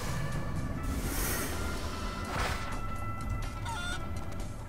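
Chicken clucking in the video game Guacamelee! Super Turbo Championship Edition, brief squawks and clucks mixed into dense, loud game action and music.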